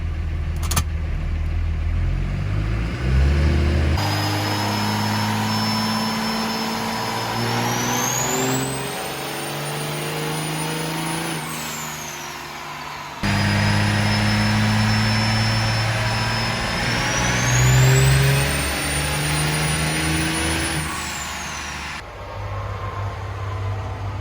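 Twin-turbo Cummins diesel with dual CP3 injection pumps roaring through a dyno pull, engine note climbing steadily in two long sweeps with a rising turbo whistle, loud and close, no talking.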